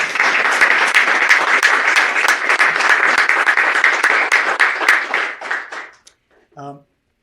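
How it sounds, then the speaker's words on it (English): A historical society meeting audience applauds, a loud, dense burst of clapping that carries for about five seconds, then thins to scattered claps and fades, with a brief voice at the end. "So I'd like to hear a round of applause for both Ed and Frank."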